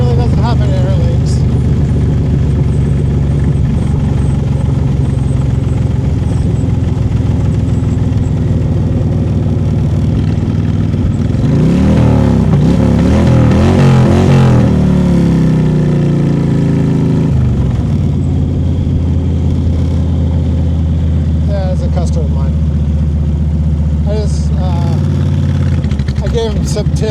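A Honda VTX 1300 cruiser motorcycle engine idles with a steady low rumble, rising into a brief rev in the middle before settling back to idle, recorded up close and loud.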